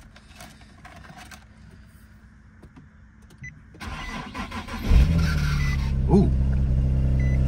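Engine start on a Jeep Wrangler with about 202,000 miles: quiet cabin sounds and clicks, a brief crank, then the engine catches and settles into a steady, loud idle with a slight odd noise at first; one short exclamation is heard.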